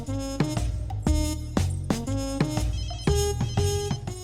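A mobile phone ringtone from a Hindi-dubbed film plays a loud, repeating melodic pattern of bright tonal notes with steady rhythmic beats, filling the whole clip with no talk over it.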